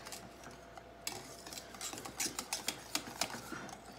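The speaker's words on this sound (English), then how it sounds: "So now I'm fixing to stir them in." A spoon stirs homemade chocolate pie filling in a pot, making light scraping strokes and quick clinks against the metal that grow more frequent and pronounced toward the end, close but quiet, with no voices.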